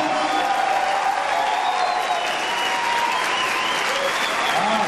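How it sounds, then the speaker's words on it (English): Audience applause at a karate demonstration, a dense, steady wash of many hands clapping that holds at full strength for about five seconds, with no speech over it. "Okay, give more and more big round of applause."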